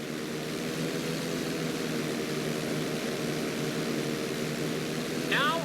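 Propeller plane droning steadily through a GTA V flight school stunt, a continuous engine hum at constant level with a brief higher whine near the end.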